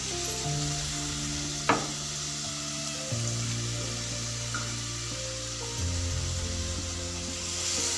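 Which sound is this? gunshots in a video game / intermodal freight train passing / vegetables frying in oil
vegetables frying in oil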